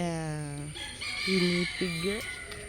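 A rooster crows close by, a long drawn-out call broken into rising and falling segments, loud and clear with faint background noise.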